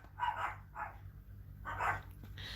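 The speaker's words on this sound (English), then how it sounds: "Did you hear the cat and dogs then?" Dog barking close by, two quick barks, a pause, then another bark, over a steady low hum.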